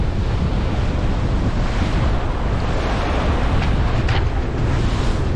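Strong wind of 25 knots gusting to 35 roars over the Norwegian Sea from a solo sailboat between Iceland and Norway, a loud, steady rush of wind and breaking waves with no let-up.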